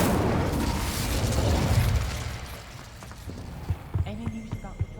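An Incendio fire spell cast in Hogwarts Legacy gives a dense, roaring burst of flame for about two seconds, then dies down to a low hum with scattered soft thuds and brief tones.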